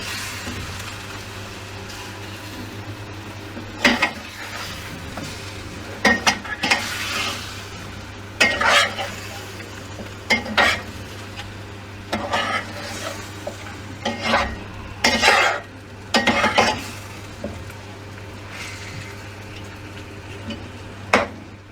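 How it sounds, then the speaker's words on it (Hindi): A spoon stirs red chili into chicken karahi in a frying pan, with irregular bursts of scraping strokes over a soft, continuous sizzle and a low steady hum. "इसको ज़रा हिलाएंगे अच्छे तरीके से।"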